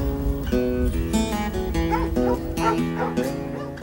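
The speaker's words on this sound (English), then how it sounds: "the story of the Chambers dogs" Family dogs yip, bark and whimper in quick bursts, close and lively, with short repeated cries over a dense, busy background.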